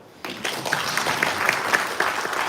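After a brief quiet moment, an audience breaks into steady applause for a panel at a Kiswahili media event. The clapping stays moderately loud and even for the rest of the clip.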